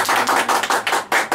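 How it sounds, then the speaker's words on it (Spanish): Applause for a visiting singer at a singer-songwriter gathering comes as about seven loud, close bursts of clapping in an uneven rhythm, each separated by a brief gap. "Un aplauso de todos para Maribel."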